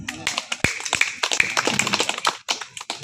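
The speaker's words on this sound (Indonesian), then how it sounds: "Tepuk tangan dulu dong" Scattered hand claps from an audience at an organisation sharing session, sharp irregular taps spread over a few seconds with voices murmuring underneath.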